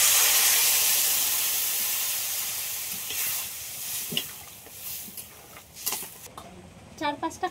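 Water poured into a hot pan of lightly fried fish, first a loud, broad sizzling hiss that gradually dies down into scattered pops and spits.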